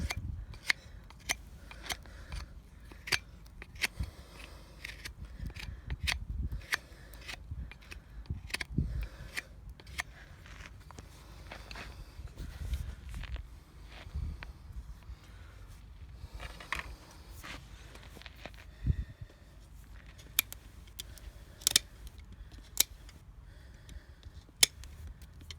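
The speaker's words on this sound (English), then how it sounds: "This loop knife works pretty handy." A loop knife trims a horse's hoof in a series of sharp, close snips and scrapes, irregular and steady, with no talking over them.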